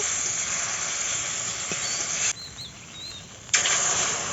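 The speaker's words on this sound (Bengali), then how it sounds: "দিয়ে দিয়েছি মশলা বাটাটা আর টমেটো কাটা ছিল সেটা দিয়ে দিয়েছি ভালো করে মশলাটা কষিয়ে নেব" Spice paste and chopped tomato fry in a little oil in a wok, producing a loud, continuous hissing sizzle that drops briefly to a quieter simmer midway before surging back.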